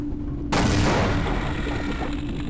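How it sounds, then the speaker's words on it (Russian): Satchel charge explosion in the video game Half-Life, a sudden loud blast after a brief lull that rolls into a sustained roaring, crackling boom, with no talk. "в ход пойдут у нас наши взрыв-пакеты"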